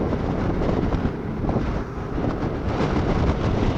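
Strong wind roars into the microphone on a motorcycle ride through the Cordillera mountains, a loud, continuous rumbling buffet with small surges that lasts for several seconds with no talking.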